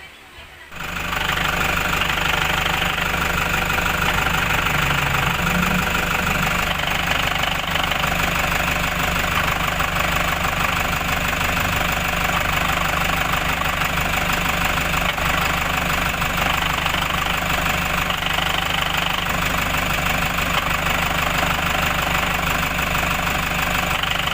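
A Toyota Hiace 3.0 1KD van engine idles with a steady drone and a rapid, continuous knocking rattle from the clutch running through it, close and fairly loud throughout.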